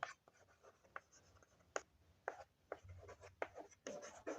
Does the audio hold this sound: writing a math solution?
yes